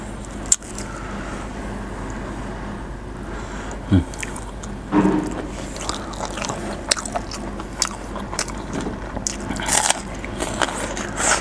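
Someone eats white fish laap with sticky rice, with close chewing and biting sounds, occasional crunches and small scrapes, over a steady low background hum.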